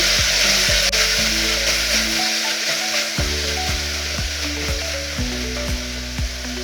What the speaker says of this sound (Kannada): ಸ್ವಲ್ಪ ಅರಿಶಿಣ, ಗರಂ ಮಸಾಲ 2 ಸ್ಪೂನು, ರುಚಿಗೆ ತಕ್ಕಷ್ಟು ಉಪ್ಪು ಹಾಕಿ ಚೆನ್ನಾಗಿ ಫ್ರೈ ಮಾಡ್ತಿದ್ದೀನಿ